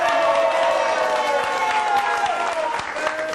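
A crowd claps and cheers for a musician, with steady, close applause filling the room, a few whoops on top and voices under it.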